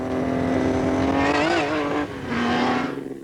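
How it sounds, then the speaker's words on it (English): A loud supercharged 1945-1965 Grand Prix racing car engine revs hard nearby, the pitch rising, dipping briefly, then climbing again in a raw, throaty roar. "It sums up for me what a racing engine should feel like and sound like"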